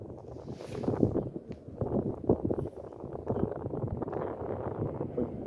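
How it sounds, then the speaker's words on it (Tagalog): Strong wind buffets the microphone in rough, uneven gusts, with a low rumbling roar throughout. "Malakas ng hangin, lakas din,"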